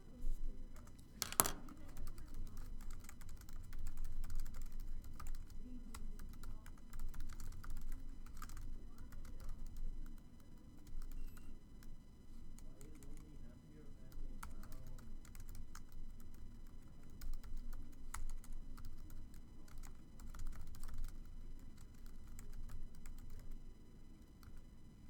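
Someone types on a computer keyboard, making soft, irregular clicks and taps that run quietly and continuously throughout. One sharper knock comes near the start.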